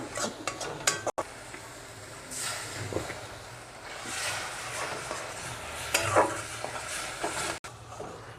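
Masala for an egg curry sizzles and fries in a pan while a spatula scrapes and stirs it, with intermittent metallic clinks against the pan and bursts of louder sizzling.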